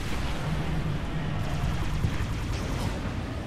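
A Scarab war machine in the video game Halo ODST fires on the player in a dense, continuous barrage, a loud sustained roar of heavy gunfire and blasts with no talking.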